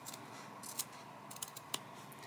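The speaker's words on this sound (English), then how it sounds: "we're just going to cut along this line" Scissors cut fabric along a sewn line while a bag is being made. A few soft snips and crunches stand out faintly against a broad background hiss, and no one speaks.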